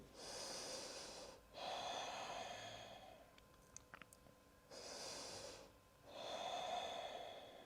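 Slow, deep breathing during a yoga stretch: long steady inhales and exhales in a close, even rhythm. Two full cycles are separated by a quiet pause with faint clicks.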